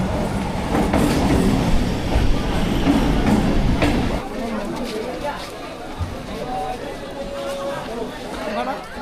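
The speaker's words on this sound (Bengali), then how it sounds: "আর এখন ট্রেন ছেড়ে দিল লক্ষ্মীকান্তপুর থেকে নামখানার উদ্দেশ্যে।" A passenger train pulls out of Lakshmikantapur station, platform 2, bound for Namkhana: a steady broad rumble of rolling wagons with faint wheel clatter that eases after a few seconds, while people chatter nearby throughout.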